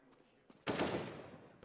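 A single loud pistol shot in Counter-Strike: Global Offensive on the Overpass map, a sharp crack that rings out and decays slowly after a few faint clicks and footsteps.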